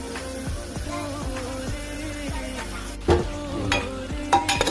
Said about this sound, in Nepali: अब हजुरको चामल हाल्ने बेला भएछ